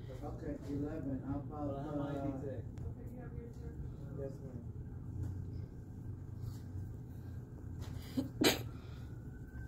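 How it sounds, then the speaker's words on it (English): A single sharp sneeze bursts out near the end, following a stretch of quiet talking over a low background rumble. "Make you sneeze."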